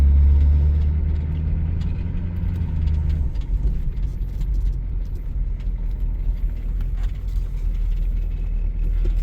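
A 1980 Cadillac Eldorado Biarritz with a 350 diesel engine drives along, its low steady engine rumble and road noise continuous and close, with a brief heavier drone at the start that settles into an even cruise.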